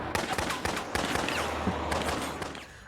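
Gunfire in a James Bond 007 film, several sharp shots in quick bursts over a busy soundtrack.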